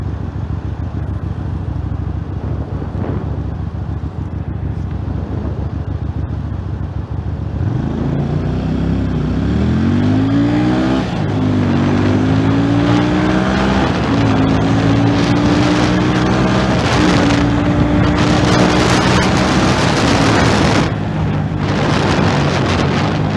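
A Musatti Milano S400 V-twin motorcycle engine and exhaust drone and rev while riding, pitch climbing through several gear changes, with steady wind rush buffeting the microphone throughout.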